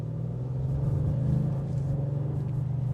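A 2026 Audi RS7 Performance, a 621 hp car, pulls hard on a test drive, its engine a steady loud low rumble that swells slightly mid-way as it accelerates, heard from inside the cabin.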